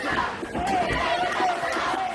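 Crowd noise at a Power Slam Pro Wrestling steel cage match against Mega, a steady broadband roar of cheering and chatter with scattered shouts, loud and continuous throughout.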